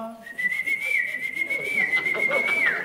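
A person whistles an imitation of a nightingale singing in the evening, one sustained high warbling tone with small slides and trills, close and clear over faint background murmur.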